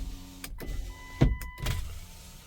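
Rear power windows on a Ram Mega Cab pickup whir in two short motor runs, each ending in a soft thunk, close up inside the cab with no talking.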